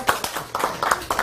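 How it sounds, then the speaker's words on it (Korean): Brief burst of audience clapping at a sales leadership lecture, several sharp claps in quick uneven rhythm over about a second, moderately loud in a room. "박수를 안 할래. 박수."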